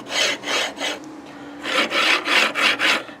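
A 3D printer bed on a linear rail with a suspected rail fault, heard as close, loud rasping slides back and forth, three strokes then a pause and four more in a steady rhythm.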